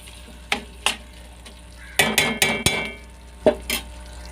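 Curry leaves are stirred into a chili pickle mixture in a pan, with a spoon clinking and scraping in short bursts over a faint sizzle, clustered strokes followed by a pause and two more clacks.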